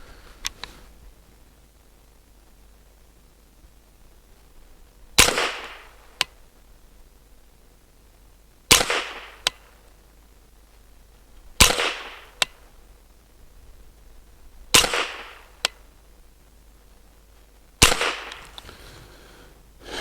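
Five sharp rifle shots from an MBGL Goat-15 firing SK Rifle Match ammunition ring out at steady intervals of about three seconds, each crack loud and close in an otherwise quiet setting.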